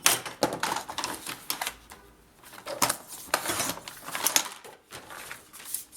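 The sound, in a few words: cutting paper for a scrapbooking page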